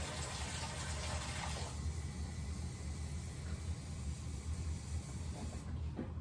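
Cold water runs steadily into a pot for cooking rice, a continuous broadband hiss that stays even for about six seconds and thins out at the very end.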